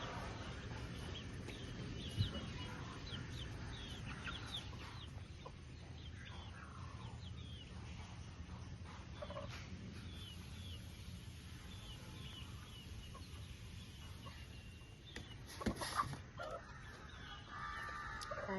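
A brooding hen sitting on a clutch of eggs gives soft, faint clucks scattered across a quiet background, with a slightly louder flurry near the end.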